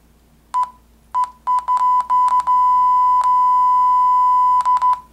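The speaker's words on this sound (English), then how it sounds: "as the bubble moves closer to the center, you get your beep." Electronic beeps from the RIGID digital bubble level app on a BlackBerry PlayBook: short separate tones, then a faster burst, merging into a long steady tone, then short beeps again, clear and close with no talking.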